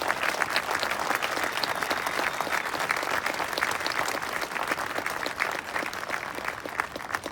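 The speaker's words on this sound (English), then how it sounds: "Let's give them a round of applause." An audience at a Veterans Day ceremony honoring Purple Heart recipients and their families claps in a dense, sustained round of applause that holds steady for several seconds.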